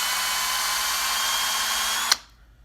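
A power drill bores steadily through a side focus wheel in a loud, continuous high whine, then cuts off abruptly near the end.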